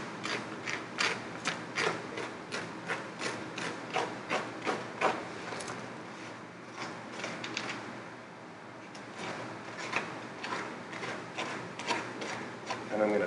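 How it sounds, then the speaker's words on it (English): A spoon scraping the fibrous insides out of a pumpkin half makes repeated rhythmic rasping strokes, close and fairly soft, pausing briefly before the scraping resumes. "just scraping the inside to get all the fibrous material out from the inside."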